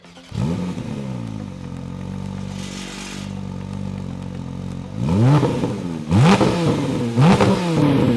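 Porsche sports car engine idling with a steady drone, then revved sharply several times in quick blips, loud and close, with no talking.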